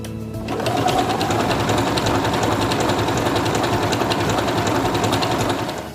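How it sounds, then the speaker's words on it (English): A Singer Quantum Stylist 9960 sewing machine stitching a mirrored decorative stitch, its fast steady mechanical whirring and rhythmic needle clatter running close and continuous for several seconds. "So I'm going to stitch that one out."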